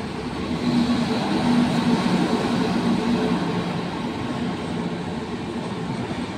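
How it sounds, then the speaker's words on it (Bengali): Patna Jan Shatabdi Express rolling into Durgapur station on a far platform, a steady rumble of wheels and carriages that swells then slowly eases, with no talk. "হ্যাঁ, এটা পাটনা জনশতাব্দী এক্সপ্রেসই ঢুকছে।"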